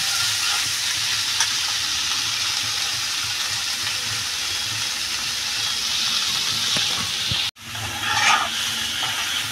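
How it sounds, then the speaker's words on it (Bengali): Fig curry sizzles steadily in a hot pan while being stirred and dry-fried, a continuous close frying hiss with a brief cut near the end, no voices. "এবার এটা আর একটু ভালো করে কষাবো"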